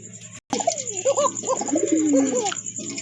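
A pair of Koka pigeons coo close and loud, with rolling, wavering calls that rise and fall repeatedly after a brief cut near the start, alone with no talk.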